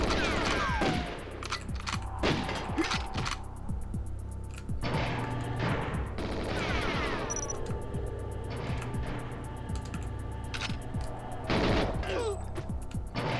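AK-47 bursts crackle through a GoldenEye match, repeated automatic volleys with brief pauses between them, mixed with in-game clatter and effects, fairly loud and sustained.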